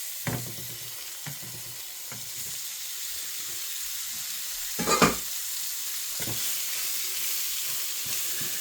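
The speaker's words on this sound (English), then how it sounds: "I'm going to go in with our washed shrimp" Washed shrimp sizzle steadily in a hot pan, a continuous bright frying hiss with a few clinks and knocks, one louder clatter near the middle, no voices.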